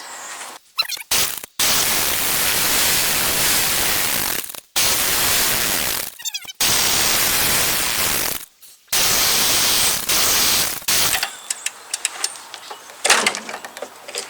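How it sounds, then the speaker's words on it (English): An air compressor blasts and hisses in long bursts while used as a vacuum on an MTD Yard Machine snow blower carburetor, the loud rushing spray cutting off abruptly several times before a quieter rattling stretch at the end. "uses the compressor as a vacuum to pull chunks, whatever, inside your carburetor out of your carburetor"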